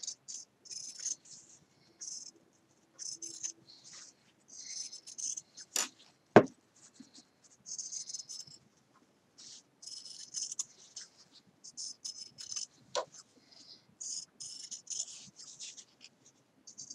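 Scissors snip off the excess seam allowance at the bottom of a shirt collar band during a Simplicity 8014 shirt dress sewing project, a close run of short, quiet cutting and rubbing strokes with a sharper tap or two.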